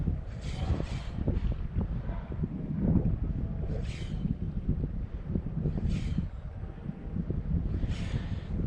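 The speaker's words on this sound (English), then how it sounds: "Definitely the wind is not helping me at all" Wind gusting over a microphone beside a flooded river during a spinning session for zander, with low, rumbling buffeting that swells and fades in repeated bursts, up close and fairly loud, no talk.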